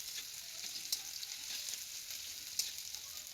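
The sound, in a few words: garlic and onion frying in oil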